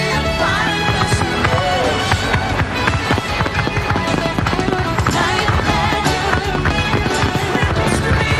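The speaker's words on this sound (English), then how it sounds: "Shamu, fireworks," Dense, loud booms and crackling bursts of a SeaWorld Orlando fireworks show layered under continuous music, with sharp pops scattered throughout the whole stretch.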